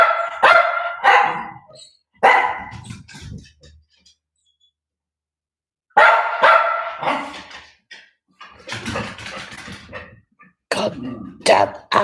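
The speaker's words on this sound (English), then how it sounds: "I'm getting a headache from you dogs." Dogs bark in a video game during an adventure-mode stretch, several short sharp barks in bursts with gaps of near silence, loud and close.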